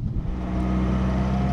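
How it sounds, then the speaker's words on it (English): Engine of an open-top Spider sports car on the move, a loud, steady, close droning roar that fills the whole moment with no talking. "the engine is right behind me and it's not very quiet"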